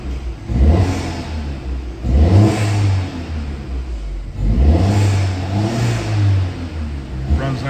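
A 2018 Volvo S60 with a 2.0-liter turbo engine is revved repeatedly, three close, loud throttle blips rising and falling in pitch over a steady idle.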